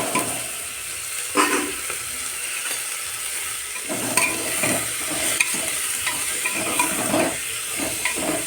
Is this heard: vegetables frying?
yes